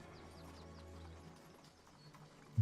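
Horse hooves clip-clop at a steady walking pace through the whole stretch, soft and somewhat distant, with a faint neigh and a louder thump at the very end, used as an army marching sound effect.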